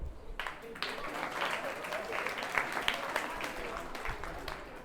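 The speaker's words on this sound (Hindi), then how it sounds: "शंकर के लिए ताली।" A group claps together in an indoor session, a steady patter of hands that starts suddenly and carries on at moderate level with some voices mixed in.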